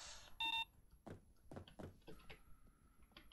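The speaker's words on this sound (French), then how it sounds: "on entend que ça bip de temps en temps, donc ça fonctionne, je spot bien les gardes" Short electronic beeps from a guard-spotting device in the video game Payday 2, a clear tonal bleep standing out among soft thuds and footsteps, with a faint sustained tone later and quiet background otherwise.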